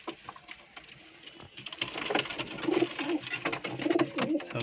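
Soft coos from a flock of high-flying pigeons repeat in short throaty bursts amid rustling and background noise, gradually getting busier and louder.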